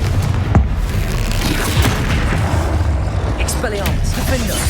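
Confringo fire blast spells from Hogwarts Legacy erupt in loud, booming bursts with crackling impacts, mixed with game effects and a voice calling out spells.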